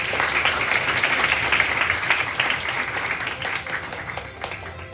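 Sustained audience applause at the closing ceremony of a Model United Nations conference held by the UN Korean Student Association, steady dense clapping that fades slightly toward the end, with no talk over it.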